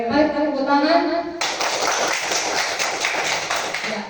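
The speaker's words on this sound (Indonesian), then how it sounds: "Oke, mari tepuk tangan." A brief spoken line gives way to a school audience of parents, teachers and children clapping together, a dense, loud burst of many hands that continues steadily to the end.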